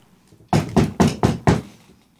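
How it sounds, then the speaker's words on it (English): Loud sound effect of five sharp knocks in an even, quick rhythm, standing alone with no talk, used as a magic knock spell in a community tabletop role-playing game. "It's a loud knock."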